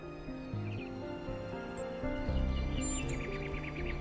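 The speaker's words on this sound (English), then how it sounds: "Do you hear the birds chirping outside the dome?" Birds chirp in short, faint bursts outside a dome in the video game Talos Principle 2, partly masked by a steady layer of soft tonal music.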